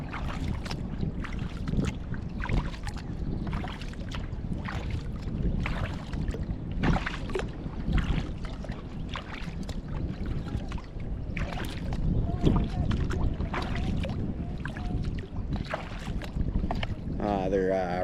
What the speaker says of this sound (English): They're rowers. Looks like maybe canoes with the paddles they have.